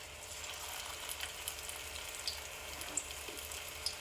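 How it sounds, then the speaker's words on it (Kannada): Leftover chapati pieces deep frying in hot oil, a steady soft sizzle and crackle with occasional small pops, close and fairly quiet with no talking. "ಇದ್ರಾಗ ಒಂದೊಂದ ಬಿಟ್ಕೊಂಡ್ರಿ. ಇವೆಲ್ಲ ಎಣ್ಣೆ ಒಳಗೆ ಕರಿಬೇಕು ನೋಡ್ರಿ."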